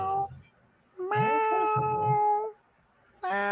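A human voice imitating a cat with three drawn-out, whiny meows separated by short silences, fairly close and clear.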